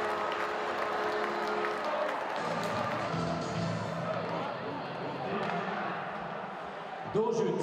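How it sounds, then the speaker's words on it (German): An ice hockey crowd of VEU Feldkirch fans keeps cheering after an equalizing goal against Kitzbühel, with broad, sustained arena roar and applause under a commentator's voice. "Die Feldkirch-Fans noch im Jubel über den Ausgleich"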